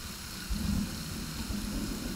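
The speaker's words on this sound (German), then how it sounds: "Das regnet da sogar drin." Steady, faint rain falls in the survival game Sons of the Forest, a continuous hiss with a slightly louder patch near the middle and no voices.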